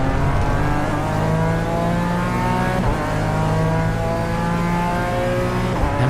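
A BMW race car in the iRacing sim game roars steadily, its engine note dropping sharply on each downshift to second gear before revving on, loud and continuous.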